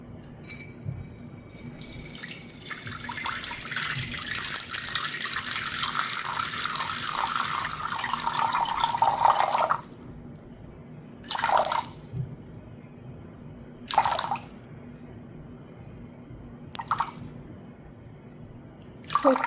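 Lukewarm tap water runs steadily into a pitcher for about ten seconds, then stops, followed by a few brief splashes or pours close to the microphone.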